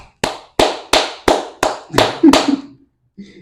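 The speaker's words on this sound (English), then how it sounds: "Amazing. Clap." Hand clapping, seven crisp close claps in an even rhythm about a third of a second apart, followed by a brief pause and a faint voice.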